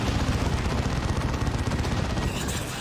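A frag barrage in a Dawn of War 2 battle erupts as a dense, continuous clatter of blasts and gunfire layered over constant battle noise.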